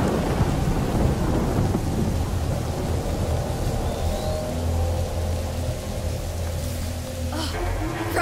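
Thunderstorm in the video game A Plague Tale: Innocence, with a heavy continuous rumble of thunder and steady rain hiss, loud and close throughout, building to a sharper crack near the end.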